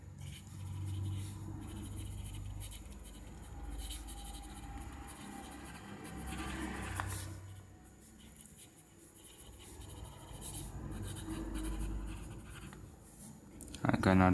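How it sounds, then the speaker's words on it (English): An ASA Nauka fountain pen moves very fast across paper, giving a continuous soft scratching that runs steadily for the whole stretch, close up and fairly quiet under a low background hum. "another sample, very fast writing"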